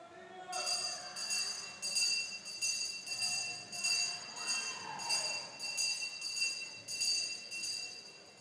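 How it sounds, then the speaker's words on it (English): At a swim meet, a lap-count bell rings repeatedly at the start end of the pool, a fast run of bright metallic strokes over steady natatorium noise for several seconds. "we'll see the bell back here at the start end indicating 50 to go for Dima"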